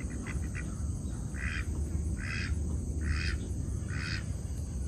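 Ducks on a homestead give a series of short, evenly spaced quacks at a moderate distance, repeating about once a second over a constant low outdoor rumble.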